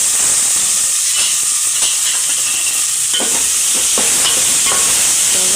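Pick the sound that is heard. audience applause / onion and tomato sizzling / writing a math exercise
onion and tomato sizzling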